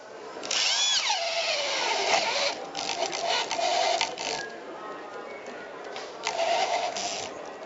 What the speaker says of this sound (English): use another drill here, which is slightly bigger, and you can just do a series of holes down through into the motel